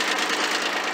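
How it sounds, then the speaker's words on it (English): A tractor engine pulls a moldboard plow through garden soil, giving a steady, loud, continuous mechanical drone with a rough knocking texture and no pauses. "I'm using my tractor with a moldboard plow."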